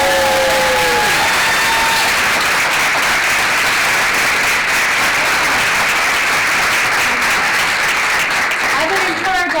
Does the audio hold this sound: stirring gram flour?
no